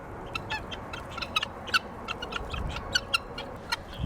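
Chickens in a coop give soft clucks and brief chirpy calls at close range, scattered irregularly over a low background rumble, with no talking.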